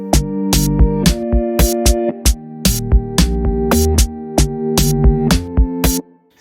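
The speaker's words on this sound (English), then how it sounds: "let me just play with the drums" A loud electronic Afrobeat drum beat made in FL Studio, with crisp hi-hats and snare hits over deep, bouncing bass tones, steady and upbeat, no voices.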